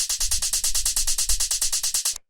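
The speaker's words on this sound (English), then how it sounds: "Even just for the little background hi-hat like that." A fat, hard-hitting background hi-hat in a hard techno track, processed through a drum bus: a fast, even stream of bright metallic ticks with a soft low thump underneath, close and alone, stopping suddenly.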